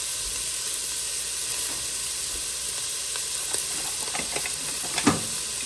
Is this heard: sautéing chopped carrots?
yes